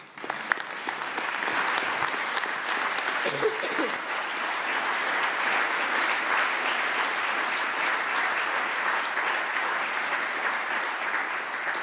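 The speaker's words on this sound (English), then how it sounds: "I'm not allowed to clap, I'm actually clapping, just to let you know." A chamber of the Scottish Parliament fills with sustained, even applause from many hands. The clapping runs dense and steady throughout at a moderate distance, and no voices stand out over it.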